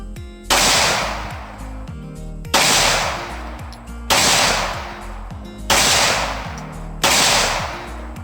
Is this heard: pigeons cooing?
no